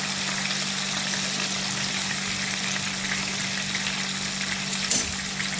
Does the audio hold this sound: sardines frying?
yes